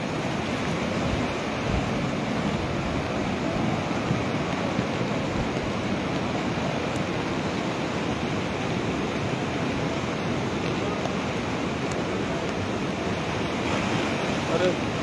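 Rushing floodwater after a cloudburst near Srinagar pours in a loud, dense, unbroken roar, steady throughout with no pauses, and no voices clearly heard over it.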